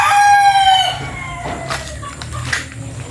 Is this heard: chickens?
yes